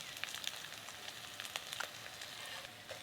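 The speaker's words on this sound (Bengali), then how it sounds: "কাঁকড়াগুলো কিন্তু কম আছে, একদম মচমচে করে ভাজা করতে হবে, একটু সময় নিয়ে ভাজবো।" Crabs fry in hot oil until crisp, a soft, steady sizzle with scattered sharp pops and crackles, fairly quiet and close.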